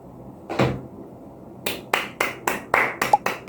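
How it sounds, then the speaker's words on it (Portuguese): Hands clap a short round of applause: one sharp clap, a pause, then about seven quick, evenly spaced claps, close and loud with no voices. "Um momento para aplaudir Carla Madeira."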